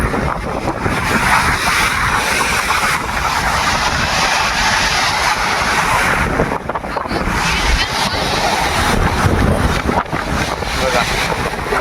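Huge monsoon sea waves pound the shore at Harihareshwar, a continuous loud roar of surf and churning water mixed with heavy wind buffeting on the microphone, with no clear pauses.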